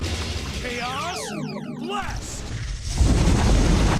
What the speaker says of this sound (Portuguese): a barra vermelha é o Chaos Blast, que faz o Shadow simplesmente lançar uma puta explosão que destrói tudo que tá na volta dele